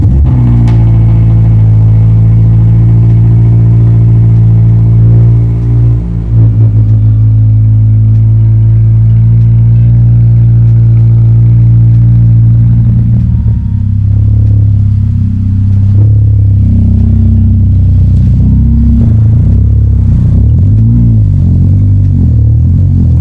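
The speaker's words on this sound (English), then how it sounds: "we're starting the car to back it up onto the lift with an open exhaust tube" A Subaru BRZ with an open exhaust tube starts up and idles loudly, its deep rumble broken by several sharp revs and throttle changes, close and with no voices.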